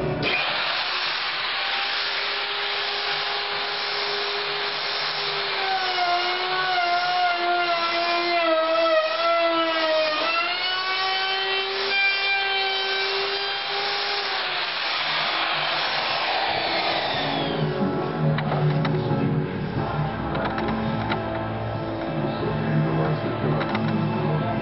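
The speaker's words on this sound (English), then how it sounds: "I'll pass the guitar on the heavy duty bit router. I'll try to remove as much wood as I can." Heavy-duty router cutting wood out of a guitar body, a loud high whine that shifts in pitch as it bites into the wood, then gives way to rougher grinding and rumbling near the end.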